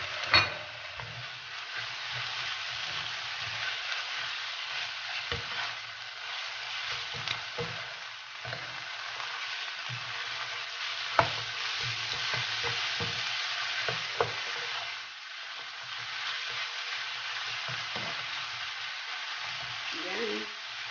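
Chicken fries in a pan for chopsuey, a steady moderate sizzle with scattered spatters and utensil clicks, softly picking up at moments over about twenty seconds.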